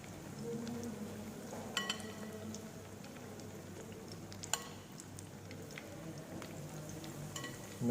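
Brinjal (aubergine) pieces shallow frying in hot oil over a low gas flame give a soft, steady sizzle with scattered faint pops and crackles, quiet and close, with no talking.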